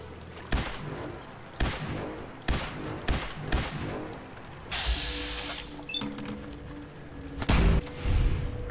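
Scattered gunshots in Fallout 4, sharp single and double cracks spaced irregularly at moderate loudness amid game ambience, with a louder burst near the end.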